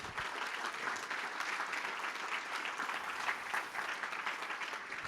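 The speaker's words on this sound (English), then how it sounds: "I think that's worthy of a round of applause." Steady applause from a seated audience at an investor event, continuous and fairly even for about five seconds with no voices over it.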